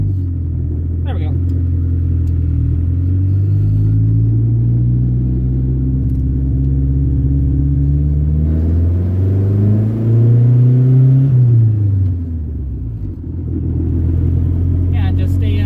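A 1986 Shelby Omni tuned past 300 wheel horsepower revs and accelerates from inside the cabin, a loud deep engine drone rising and falling in pitch through gear changes, with interior rattles over it.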